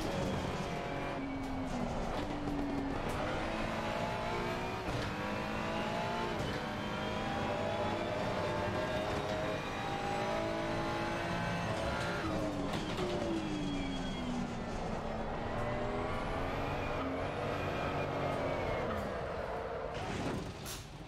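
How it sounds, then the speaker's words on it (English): Ferrari 296 GT3 race car engine in Assetto Corsa Competizione at Valencia, a continuous loud engine note rising and falling through the gears, with shifts and steady high revs and no voices. "The engine note sounds a whole lot better in comparison to the other Ferrari"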